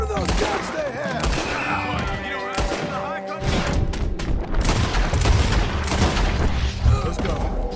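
Gunfire in Red Dead Redemption 2 crackles and booms in dense overlapping volleys, loud and sustained, with voices talking through the shooting.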